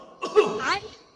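A single short, close cough bursts out and then trails off quickly.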